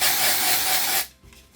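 A close, loud aerosol hiss of dry shampoo being sprayed into hair, a single steady burst lasting about a second before cutting off abruptly into quiet.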